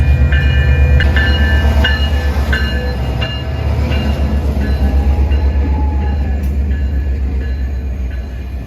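Steady rumble and rhythmic clacking of a decorated Christmas holiday train rolling past close by, with a faint squeal of wheels midway and no voices.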